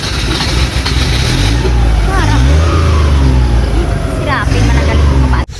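A car engine, just fixed by a mechanic, starts on the first try and revs loudly and steadily for several seconds, with mid-range engine drone throughout and background speech mixed in before it cuts off.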